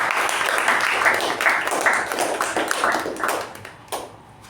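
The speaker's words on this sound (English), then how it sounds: "very good round of applause" Meeting attendees give a round of applause, a moderate burst of clapping from a small group with individual claps audible, fading out over a few seconds with a final stray clap.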